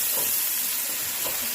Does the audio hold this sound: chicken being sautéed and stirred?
yes